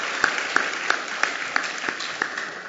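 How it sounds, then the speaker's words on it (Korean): A church congregation at a Sunday morning service claps in thanks, a steady sustained applause with a few sharper claps standing out at regular intervals, moderately loud and fairly close. "그렇게 하신 우리 하나님께 박수로 감사하겠습니다"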